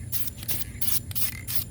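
Duplicolor spray paint hisses from a can onto the face of a wheel in four short, even bursts, close by and moderately loud, with no voices.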